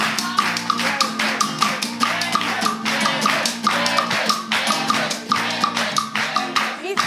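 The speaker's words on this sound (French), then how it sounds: "Nous allons accompagner la maîtresse avec des applaudissements." Audience at a live Ivorian variety show claps along in a steady rhythmic pattern, loud and sustained, with steady music or tones running underneath and voices mixed in.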